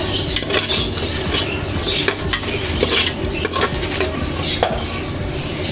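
A spoon stirring chicken biryani ingredients with ginger-garlic paste in a cooking pot on a low flame, scraping and clinking steadily at close range over a light background sizzle, with no talking.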